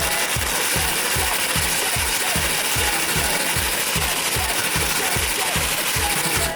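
McDonald's shaker fries are shaken inside a folded paper bag with fast, even, repeated thumps and rustles, loud and close, continuing without pause throughout.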